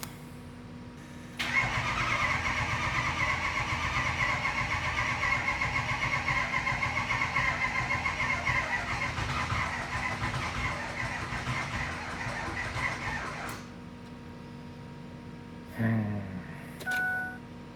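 Ford 6.0 Powerstroke diesel engine cranking and struggling to start, a long, steady, loud starter grind lasting about twelve seconds, then stopping abruptly, followed by brief knocks and beeps.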